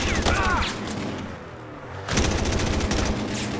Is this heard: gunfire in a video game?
yes